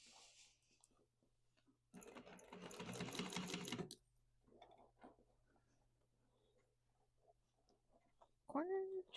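A sewing machine stitches up the sides of a fabric bag in one rapid, rattling two-second run, then goes quiet apart from faint handling sounds and a brief voice at the end.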